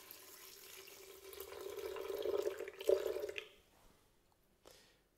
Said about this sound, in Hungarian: Vízzel felöntjük.